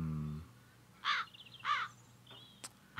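Two loud crow caws from a video game fantasy setting, about half a second apart, ringing out clearly over quiet ambient background, followed by a few faint clicks.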